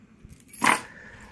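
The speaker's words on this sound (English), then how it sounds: "I still carry my keys on my lanyard with my bottle opener." Keys on a lanyard with a bottle opener give one brief metallic jangle, close and fairly loud, amid quiet surroundings.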